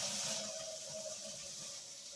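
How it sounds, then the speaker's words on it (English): Hot water poured into a pot of beans, a steady soft splashing stream that runs evenly for a couple of seconds at close range with no voices. "I'll add my hot water."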